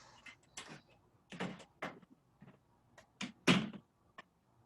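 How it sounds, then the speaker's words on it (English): A door is shut indoors during a business talk, giving a few sharp knocking thuds and latch clicks spread across a few seconds, fairly close and moderately loud, with no talking. "Let me shut this door."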